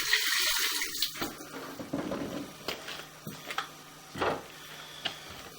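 Water runs and splashes while toilet paper breaks up in it, a steady rushing flow at first and then a string of irregular wet bursts and drips, close by, with no talking.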